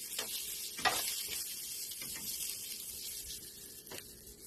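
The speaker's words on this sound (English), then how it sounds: "I'll fry down some." Breakfast food frying in a pan on a home stove, a steady sizzle with a few sharp clinks of a utensil against the pan, close and alone.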